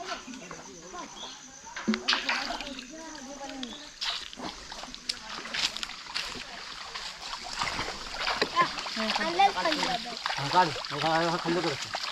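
Water splashes repeatedly as a place is washed and cleaned in a Konkan village, irregular wet bursts running under people talking nearby.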